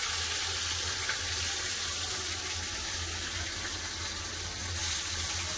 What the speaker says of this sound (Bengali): তেল গরম হয়ে গেছে, আর একে একে মাছগুলো ছেড়ে দেবো।